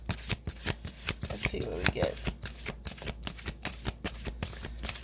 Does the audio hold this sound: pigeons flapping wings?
no